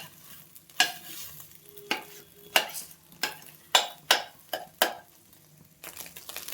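Eggs fry in a hot pan for chicken fried rice while a spatula stirs them, giving about nine sharp, rhythmic scraping strokes close by over a soft sizzle.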